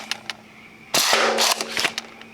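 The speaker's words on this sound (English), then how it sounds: "Shoot one long range to see if you guys can see the dart." A Nerf dart blaster fitted with a T238 Spitfire tracer unit fires in sharp, close bursts, a pair of light snaps followed by a louder cluster of rapid shots.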